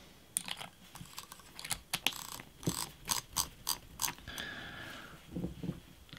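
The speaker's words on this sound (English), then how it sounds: "for transit we'll just need to unscrew it and take out this little battery cover" The battery cover of an Olight Baton 3 Premium Edition flashlight is unscrewed, making a close series of quick clicking, ratchet-like ticks and light scrapes from the metal threads.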